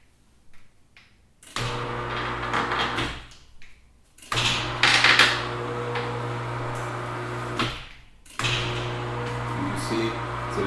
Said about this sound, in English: See, the lift is running.